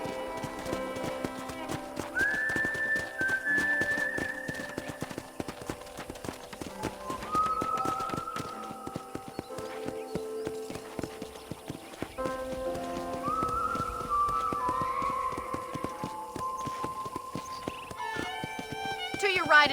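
Horse hoofbeats in the Red Dead Redemption video game, a steady clip-clop gait running throughout with occasional whinnies, while characters talk over the riding and ambient music.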